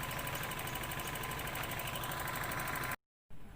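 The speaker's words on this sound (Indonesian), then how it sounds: "kemudian kita geber mesinnya" A used car's engine idles and is revved with a steady, loud mechanical drone and some knocking rattle, then cuts off abruptly into silence before a faint return.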